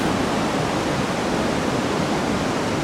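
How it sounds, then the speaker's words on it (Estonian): Vøringsfossen waterfall in Norway, water plunging 182 metres, a steady dense roar of rushing water heard as constant broadband noise, loud and unbroken, with no voices. "Nüüd siis olemegi jõudnud selle Norra kõige kaunima kose Vöringfosseni kose juurde, kus siis vesi tuhiseb alla 182 meetri kõrguselt"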